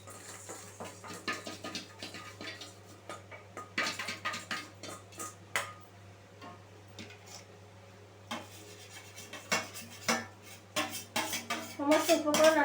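Lentils tipped into a cooking pot for khichdi and stirred, with scraping and clinking of a metal spoon against the pot in irregular bursts over a low steady hum.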